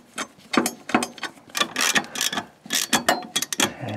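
Ratchet wrench tightening 13 mm bolts on a Mercedes-Benz W140 S-Class transmission mount: rapid bursts of close, crisp clicking in uneven strokes, pausing between pulls, with no speech.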